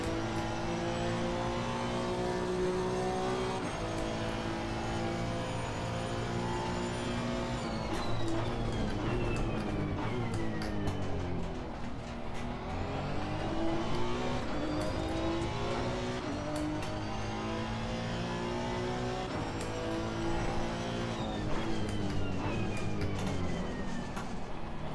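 Honda NSX GT race car engine lapping the Hungaroring in Assetto Corsa Competizione, loud and continuous with rising revs through the gears, sharp upshifts and downshifts under braking, alone without talk.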